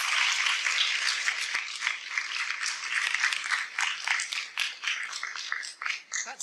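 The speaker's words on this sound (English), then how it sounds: "So, should we give a round of applause for Jordan?" Audience applause fills a physics lecture hall, a dense steady patter of many hands clapping that thins and grows more uneven toward the end, with no voices over it.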